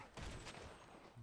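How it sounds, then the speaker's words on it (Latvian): Gunfire in GTA 5: a quick, fairly faint burst of several shots in rapid succession, heard over game ambience with no talking. "Viņš šauj kādu citu, es šauj viņu."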